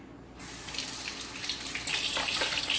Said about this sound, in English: Let's drain it in the sink.